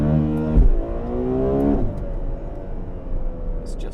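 Ferrari 12Cilindri grand tourer with an 819bhp V12 engine accelerating hard on the road, a loud rising harmonic howl that climbs twice with a gear change between, heard close from inside the car.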